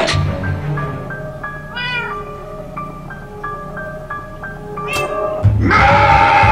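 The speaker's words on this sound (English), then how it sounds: "Bad kitty, stop it!" A cat meowing in the video game Minecraft: Story Mode, Episode 6, with a run of clear, repeated meows rising and falling in pitch, then a sharper, louder yowl close up at the end.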